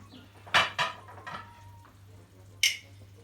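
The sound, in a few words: stirring chicken rice pilaf in a pot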